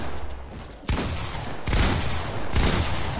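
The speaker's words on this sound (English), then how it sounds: "I got machine gun" Machine gun fire in a video game rings out as three loud sustained bursts of rapid shots, each starting abruptly, with no talk over them.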